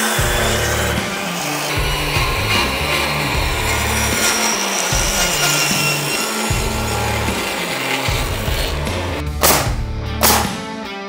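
Reciprocating saw cutting through wooden wall studs during a kitchen remodel, loud and close, with a rapid pulsing rasp that surges and dips, then a couple of sharp clunks near the end.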